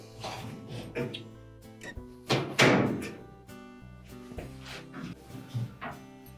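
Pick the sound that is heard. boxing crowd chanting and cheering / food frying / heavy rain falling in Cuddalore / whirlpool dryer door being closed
whirlpool dryer door being closed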